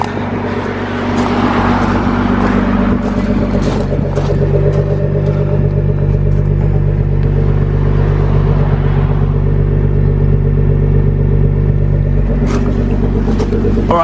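A Nissan GT-R R35 fitted with an Armytrix Valvetronic exhaust idles warm behind the car, a steady deep rumble heard up close and loud throughout, with a brief rise near the end.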